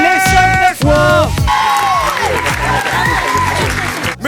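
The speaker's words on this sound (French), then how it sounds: "On les applaudit" An audience at a children's awards ceremony breaks into loud cheering, whoops and shouts, then sustained clapping that keeps going beneath high excited voices.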